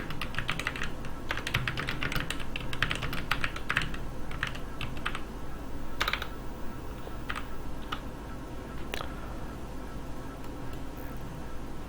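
Computer keyboard typing footer text into a PowerPoint slide, a quick irregular run of close, light key clicks over a steady low background hum.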